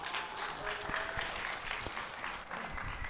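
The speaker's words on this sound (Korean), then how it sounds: "여러분 뜨거운 박수로 환영해 주시기 바랍니다" Steady, dense applause from a workshop audience welcoming a presenter, continuous and even throughout with no pauses.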